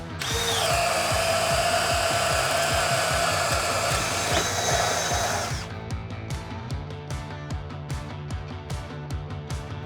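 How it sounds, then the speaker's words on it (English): A hammer drill with a 5/8-inch Bosch Daredevil bit and Milwaukee M12 battery whines at high speed with a rapid pounding rhythm, boring through a 4x4 wood post, then the pitch drops and impacts become spaced, distinct thuds. "now the drilling test with the hammer drill"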